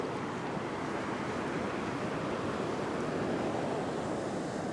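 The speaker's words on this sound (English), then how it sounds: "there's all those big waves breaking" Big ocean waves breaking on an Australian beach during a fishing session, a steady, wide wash of surf and rushing water with some wind buffeting the microphone, no voices.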